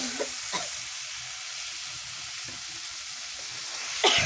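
Food fries in a pan with a steady, soft sizzle throughout, while a few faint scrapes and knocks of stirring break through, the last one a little louder near the end.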